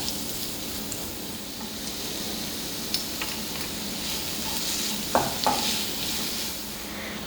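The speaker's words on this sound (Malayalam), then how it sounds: "ഇതിലേക്ക് ഒരു വലിയ സവാള നീളത്തിലരിഞ്ഞത് ചേർത്ത് കൊടുക്കാം ഇതൊന്ന് നന്നായി വഴണ്ട് വരട്ടെ" Long-sliced onion with salt sautés in a pan, a steady close frying hiss with a couple of light utensil clinks partway through, no voices over it.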